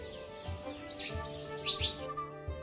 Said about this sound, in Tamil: நம்ம குருவி ஒரே சவுண்டு.